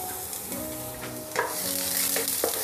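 Seven cloves of minced garlic in a tablespoon of oil sizzle as a spoon stirs them in a pan, with a few distinct scraping strokes over a soft background hum.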